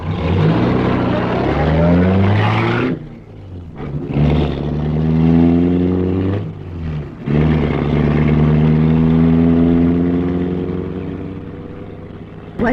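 A car engine revs loudly nearby and pulls away through several gear changes, the roar rising and breaking off in short gaps before fading at the end, with no voices over it.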